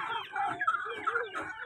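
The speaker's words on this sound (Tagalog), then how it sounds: "Oh, mga manok ni Tatay Yogos." Chickens kept near housing in a Manila neighborhood cluck softly in a short, continuous burble of overlapping low calls, fairly close and with no talk.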